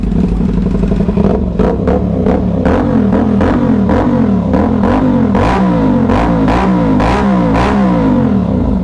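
CFMoto 450SR motorcycle fitted with an Austin Racing shorty exhaust, revved loudly and repeatedly up close, its engine note rising and falling in quick sharp throttle blips over a steady idle rumble.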